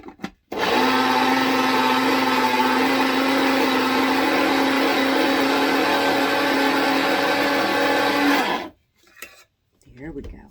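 A loud electric grinder grinds dried lavender, whirring steadily for about eight seconds, a constant high-pitched motor drone that starts and stops abruptly, followed by faint rustling.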